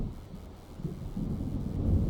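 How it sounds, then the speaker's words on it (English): Low, rolling thunder of a thunderstorm in the video game Alan Wake Remaster, a steady distant rumble that swells toward the end with a faint hiss of wind or rain. "It seems there's a storm coming."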